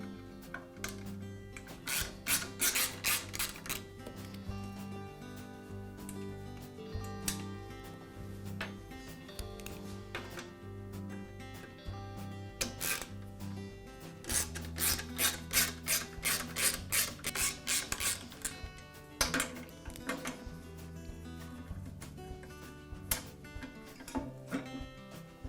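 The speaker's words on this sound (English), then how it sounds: "I'll begin by removing the front panel from the compressor." Front panel being removed from a DeWalt air compressor: repeated close scraping and ratcheting bursts, like a screwdriver turning screws, in several clusters over a quiet background hum, without talking.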